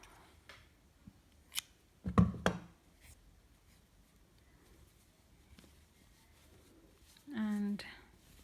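Scissors snip through crochet yarn in two or three quick, crisp cuts close to the microphone, surrounded by near silence, with a brief voice near the end.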